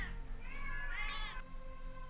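Cats meowing in the video game The Excavation of Hob's Barrow, a couple of drawn-out, wavering mews over a low steady background hum, soft and moderately close.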